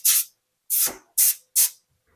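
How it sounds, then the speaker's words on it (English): Four short hissing bursts of cooking oil spray onto a baking tray, each about a quarter second, separated by brief pauses, close and clear with no talking. "I'm going to go ahead and just give it a small little spray."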